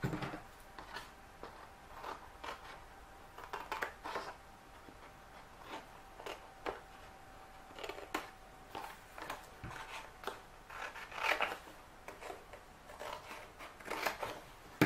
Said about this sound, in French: Maintenant, on va venir couper ici pour faire les petites languettes.